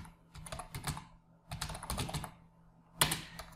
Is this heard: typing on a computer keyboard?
yes